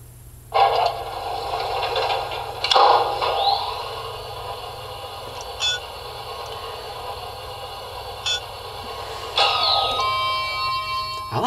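Arrival chime of a hydraulic elevator at the Atlantis hotel: several clear, ringing electronic bell tones sound at intervals over a steady machine hum, close and fairly loud, with no talking.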